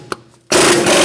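A 21mm bolt on a 2008-2013 Nissan Rogue front CV axle seal job being backed off with a socket and wrench: a faint tap, then a loud sustained ratcheting grind that continues steadily to the end.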